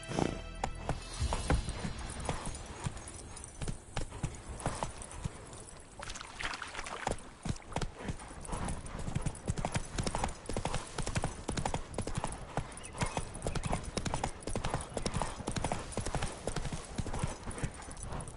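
Roach, a horse in The Witcher 3, gallops with rapid, rhythmic hoofbeats that pound continuously and loudly, with brief bursts of other game sounds mixed in.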